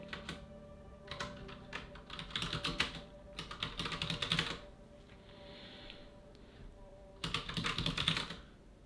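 Bursts of typing on a computer keyboard, close and fairly quiet, come in several rapid clusters separated by short pauses with no speech.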